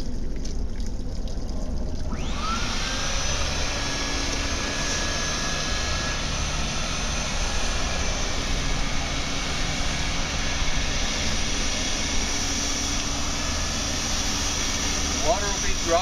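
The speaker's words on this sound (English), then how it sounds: "Go ahead and turn on the vacuum." A Dual Vac fire sprinkler vacuum draws water through a 2x1 adapter nipple, switching on about two seconds in and then running as a loud, steady whine and rush that stays constant to the end, with a voice speaking over it.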